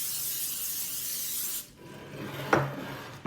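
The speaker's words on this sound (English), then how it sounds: "I've got my handy dandy spray." A sustained hiss of cooking spray onto a baking sheet close up for over a second, then quiet handling noises and a sharp clunk of something set down.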